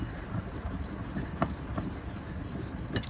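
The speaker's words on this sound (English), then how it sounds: "All the ink is coming from this stick. So I'm going to grind it until to a very thick" A Chinese ink stick grinds on an ink stone for a grass orchid painting, giving a steady, soft, close rasping rub with slight strokes throughout and no talking.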